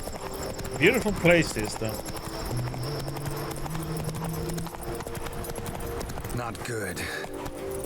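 Roach the horse clip-clops along in The Witcher 3: Blood and Wine, steady hoofbeats plodding under a man's speech, with a brief whinny or snort near the start and ambient game music behind.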